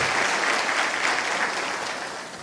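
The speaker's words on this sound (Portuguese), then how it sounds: "dar um aplauso ao Senhor pela palavra dele" A church congregation applauds during a worship service, a dense, steady wash of many hands clapping close by that holds strong for about two seconds before beginning to fade.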